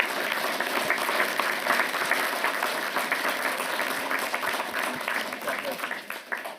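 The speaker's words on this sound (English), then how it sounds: "Give yourself a round of applause, please." Steady applause from the audience at a town council meeting, a sustained patter of many hands clapping at moderate distance that thins out toward the end.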